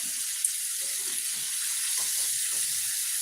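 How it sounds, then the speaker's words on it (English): A battered fish fillet fries in a pan with a steady, close hiss of sizzling oil and a few soft crackles underneath. "This fish is frying up."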